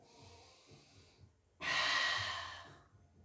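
Breath during a Pilates exercise on the mat: a faint soft inhale, then a loud, close, forceful exhale lasting about a second before it fades.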